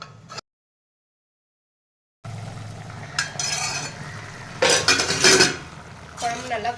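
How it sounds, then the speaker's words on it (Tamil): Cauliflower kurma curry boiling in a pot while being stirred, with metallic clinks and scrapes of a spoon against the pot after a short silent gap, some bursts louder and closer. "குழம்பு நல்லா கொதிச்சுட்டு இருக்கு."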